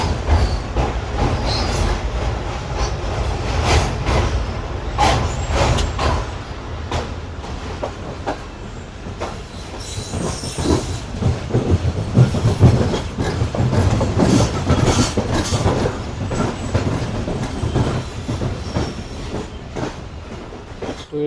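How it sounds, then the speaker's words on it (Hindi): The Karakoram Express passes through Kotri Junction, its wheels clattering rhythmically over rail joints in a loud, continuous rumble with occasional metallic screeches, heard up close with no talking. "अब आप देखेंगे जैसा कि हल्की हल्की ट्रेन अप्रोच बनाएगी, फिर हल्की हल्की यहाँ से निकलेगी"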